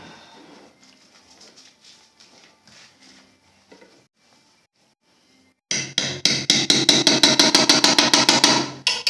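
A Japanese samurai sword striking and cutting through a nail, heard as a rapid series of loud, sharp metallic impacts in steady rhythm after quiet background talk.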